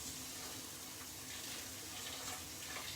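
A steady stream of boiling water pours and splashes into a container over rice noodles, a continuous soft hissing gush, close and fairly quiet.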